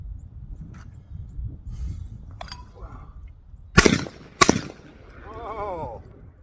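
Two sharp, loud shotgun blasts from a Pointer Acrius 12 gauge at an outdoor clay shoot, a second apart, each with a short echoing tail, amid quiet background noise and a faint voice.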